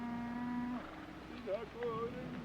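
Cattle herd mooing in a 1960s Western television drama, a long low moo followed by several shorter, wavering calls, moderately distant over a soft background hum.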